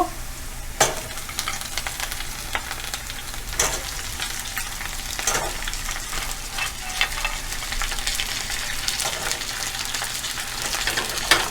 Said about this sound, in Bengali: পেঁয়াজটা একদম ব্রাউন হয়ে গিয়েছে, এখন আমি কাঁকড়াগুলো দিয়ে দিব